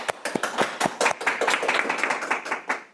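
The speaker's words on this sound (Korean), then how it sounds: "큰 박수로 모시겠습니다." An audience at a Korean seminar on US AI patent trends claps to welcome a lawyer lecturer, giving a brief, scattered round of close, sharp handclaps that thins out over a few seconds.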